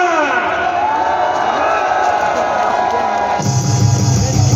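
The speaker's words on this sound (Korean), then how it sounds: "함성 한번 부탁합니다" A crowd at an outdoor rally of national security civic groups on October 3, 2024 cheers and shouts continuously, a loud, dense roar of voices with rising whoops throughout.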